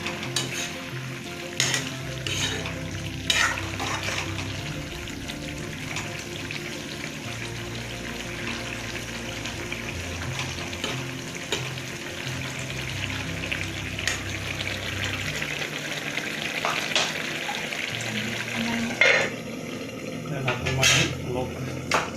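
Fiddlehead fern greens sizzle steadily in a pan as fried fish is added, with occasional stirring scrapes and a person talking over the cooking.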